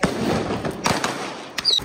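Diwali firecrackers bursting outdoors in a rapid crackle of sharp pops over a dense noisy background, with one brief high whistle near the end.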